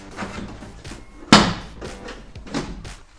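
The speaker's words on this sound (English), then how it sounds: "Pop it all around. There's quite a few poppers on this door." Plastic clips on a van's interior door card pop loose as the panel is pried off, giving one sharp loud snap amid softer handling knocks and rustles.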